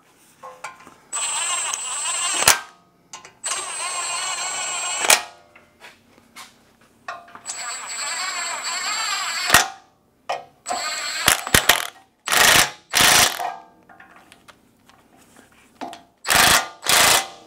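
Impact wrench tightening bolts on a Toyota ball joint at its lowest power setting, heard as several short, loud, rattling bursts near the end. Longer steady mechanical whirring runs earlier, with gaps of quiet between.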